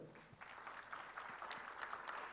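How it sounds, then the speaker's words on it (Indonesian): A church congregation applauds during a sermon, a faint, distant patter of clapping with scattered individual claps, heard alone without speech. "Tepuk tangan yang dahsyat"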